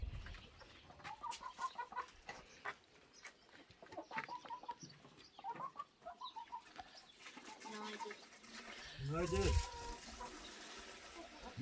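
Chickens clucking on a farm in the morning while they drink from filled water containers, with short bursts of clucks and calls near and far across the stretch and people talking quietly among them.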